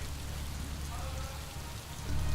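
Rain falls steadily outside during mixed snow and rain, a constant soft hiss close by that swells slightly louder near the end, with faint voices beneath it.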